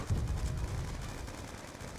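A grenade launcher explosion in the video game Call of Duty Black Ops 2: a dense, rumbling blast of game gunfire and explosion noise that stays loud and continuous throughout.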